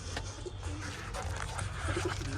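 Pigeons coo in low repeated calls at a nest box wall full of egg-laying compartments, soft and steady over a busy, noisy background.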